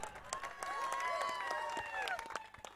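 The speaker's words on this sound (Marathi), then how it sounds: "टाळ्या वाजवा." Outdoor crowd at a village cricket tournament prize distribution ceremony claps and cheers, faint and scattered, under a loud PA voice and a whistling tone.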